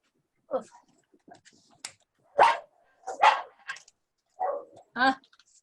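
A few sharp, separate dog barks ring out from fairly close by, spaced irregularly through an otherwise quiet room, with some faint soft sounds between them.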